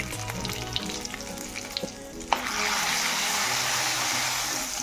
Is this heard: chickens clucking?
no